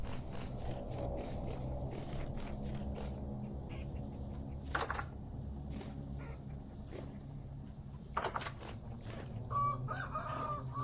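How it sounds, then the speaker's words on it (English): Chickens in a video game cluck and crow nearby, with a rooster's cock-a-doodle-doo and repeated clucks over a steady ambient background. "I have to hang out with my chickens a little bit over here"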